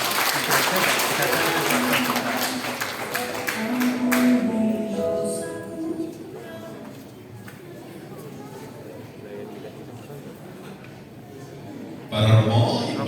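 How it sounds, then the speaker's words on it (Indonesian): Crowd of guests applauding at a parish farewell-and-welcome gathering for priests: a burst of clapping for several seconds that fades into murmuring and a few voices. "Tepuk tangan."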